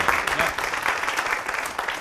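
A lecture audience claps, producing a steady, dense patter of many hands that stays loud and even throughout, with a voice faintly mixed in.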